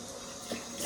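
Hot water running from a tap over a shaving brush during rinsing, a steady close splashing hiss with a brief swell partway through and no talking.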